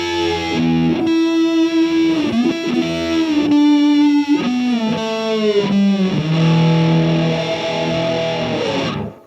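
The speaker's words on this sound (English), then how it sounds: "I'm using a bit more distortion now, because we need a lot of sustain for this part" A heavily distorted electric guitar plays sustained slide notes, gliding smoothly between pitches with a thick, singing tone before cutting off.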